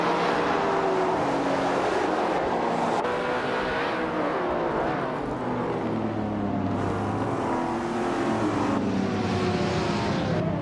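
Supercars from the 2010-and-up class race in a video game, engines roaring loud and continuous with shifting pitch as cars accelerate and pass, with no speech over the engine noise.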